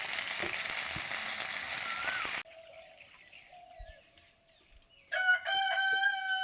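Bata fish frying in mustard oil gives a loud, dense sizzle for a couple of seconds, then drops to quieter crackle before a rooster crows nearby over the frying.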